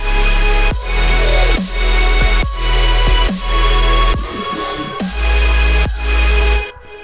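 A big, bright synth lead plays loud, rhythmic chord stabs over a deep bass, pulsing in even sections before cutting off near the end.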